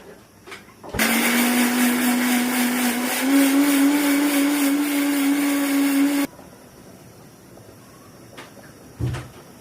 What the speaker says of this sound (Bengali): ব্লেন্ডার করা জিরা মরিচ এটা